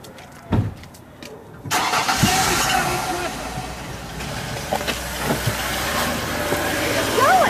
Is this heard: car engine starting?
yes